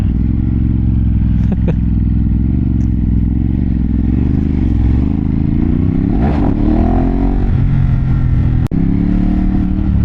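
A Ducati Hypermotard 950 motorcycle engine idles with a low, steady rumble, revving up briefly partway through, with a few clattering knocks nearby.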